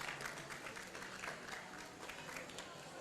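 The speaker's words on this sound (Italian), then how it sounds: "E vai, l'applauso ad Antonio Mancarella" Clapping from a small audience for a chef during a cooking demonstration of a flambéed dessert, a quiet, steady patter of hand claps with voices mixed in.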